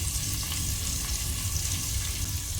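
Two large onions frying in a pressure cooker for mutton biryani, a steady, close sizzle that stays even throughout with no talk.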